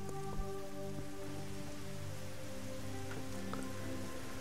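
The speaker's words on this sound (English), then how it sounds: "We look at all this rain. Sweet, sweet rain." Steady rain pours down in the mining and building game Dig or Die, a dense, even patter that never lets up, with soft sustained tones humming underneath.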